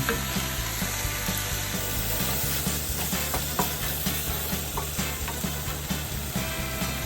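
Shrimp and tomato sizzle in a pan for Cajun jambalaya pasta, a loud close crackling hiss with repeated clicks and scrapes of stirring, and no voices.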